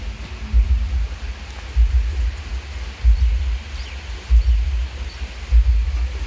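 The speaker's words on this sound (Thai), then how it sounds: "ฝน ตกตั้งแต่เมื่อคืนยังไม่หยุดเลยนะคะ" Rain falling steadily after a night-long downpour, with elephants nearby, a constant broadband hiss with low rumbling swells every second or so, no voices.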